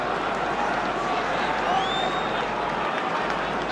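Football crowd at an Everton versus Liverpool match, a sustained wash of cheering and clapping from the stands, steady and moderately distant, with a faint whistle rising briefly midway.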